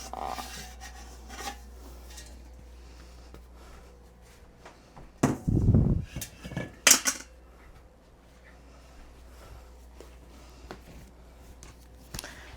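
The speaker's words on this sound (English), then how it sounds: "now I just got to scrape a little bit out of here." Soft bread dough made with sweet potato is scraped from a bowl, a couple of short rasping scrapes in the middle of an otherwise quiet stretch with faint background hum.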